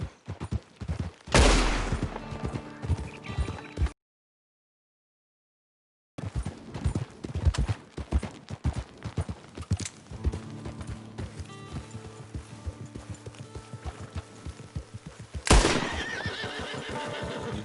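Horse hooves clip-clopping and a loud whinny in Red Dead Redemption 2 Online, with a second neigh near the end, over steady hoofbeats and game ambience, broken by a brief silent gap.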